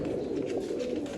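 Sialkoti pigeons coo in a low, steady murmur close by, a continuous soft burbling with no speech over it.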